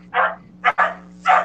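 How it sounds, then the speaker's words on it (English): Several dogs bark in short, loud bursts in the background behind a live wrestling talk show, about three barks across a second and a half over a steady low electrical hum. "got dogs going nuts in the background"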